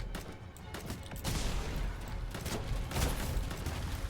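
Bullet-spawn attack from Belpomet, a forest demon boss in the game Shape of Dreams, a dense, continuous barrage of rapid popping and booming bursts that stays loud and close throughout.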